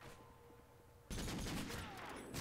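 After a quiet stretch, a sudden burst of loud revolver gunfire in Modern Warfare 3 erupts, sharp repeated shots cracking in quick succession.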